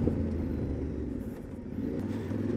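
Yamaha Tenere 700 motorcycle ridden in fourth gear on slippery gravel, a steady low engine rumble with faint wind and crunching underneath, holding constant for the whole stretch with no voices.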